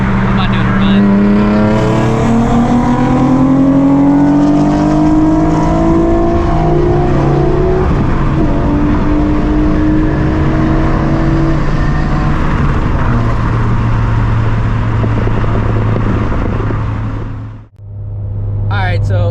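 A turbocharged Subaru FRS accelerates hard through a sustained pull, its engine note climbing steadily and loud and close inside the car, then cutting off abruptly near the end before idling quietly.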